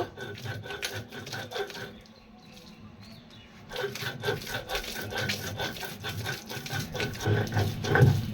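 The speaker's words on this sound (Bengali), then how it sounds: "টক পাতাগুলি নিয়ে নিয়েছি, এখন এগুলি বেটে নিব।" Sour leaves ground by hand into a mash for a Bengali bhorta, making steady rhythmic rubbing and scraping strokes, close and moderately loud, with a brief quieter pause partway through.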